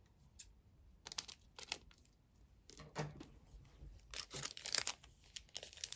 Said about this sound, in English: I guess I have to cut this one open